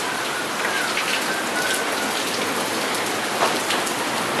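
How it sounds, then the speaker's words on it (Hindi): Dense, steady downpour of heavy rain in Islamabad hissing on surfaces, close and continuous, with individual drops spattering throughout. "काफ़ी अच्छी खासी किस्म की बारिश है"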